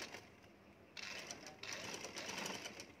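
A sewing machine stitches along the outline of a printed and embroidered neck design, its steady whirring running continuously and growing busier in two steps partway through, with no talking.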